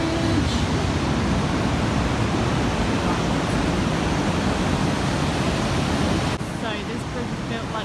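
Loud, steady rush of river water pouring over the Pulteney Bridge weir in Bath, a dense broadband roar filling the whole stretch with no pauses.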